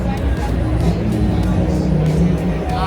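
A man vocally imitates a dirt bike engine at a supercross event, a continuous buzzing, revving drone held for about three seconds over a noisy crowd background.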